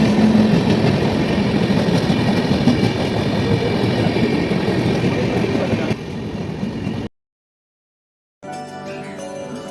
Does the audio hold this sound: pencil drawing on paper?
no